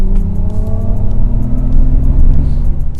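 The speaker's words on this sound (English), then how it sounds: "for those that like audio, there are some really sci-fi options you can channel through the music system. I've got something called Silver Wave" Mercedes-Benz EQS electric car playing its Silver Wave synthetic driving sound through the music system, a steady futuristic droning hum with layered rising tones over a low rumble, close and continuous.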